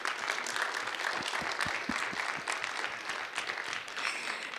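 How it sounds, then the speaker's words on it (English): A room of students and attendees at a school board meeting give a hearty round of applause, a steady patter of many hands with some distinct nearby claps standing out. "let's give our support network a big, hearty thank you round of applause"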